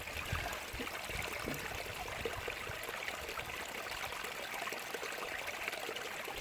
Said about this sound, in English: I just shoot just a flowing little stream.